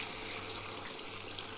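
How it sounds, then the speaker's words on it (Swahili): A small splash of water is poured into a pot of spaghetti in tomato sauce, a brief, soft hiss of running liquid heard close up and quiet. "Teka tu maji kidogo."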